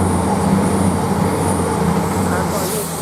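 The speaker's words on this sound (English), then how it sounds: "now we've got a Thameslink train just coming in here" A Thameslink train on the Bedford to Brighton service pulls into Luton Airport Parkway station, a steady loud rumble of wheels and motors throughout, close by, with faint voices under it.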